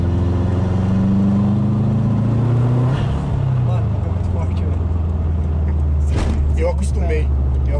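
A Subaru turbo car accelerates inside a tunnel, its loud engine note rising in pitch and then settling into a booming drone that echoes off the walls, with voices talking over it.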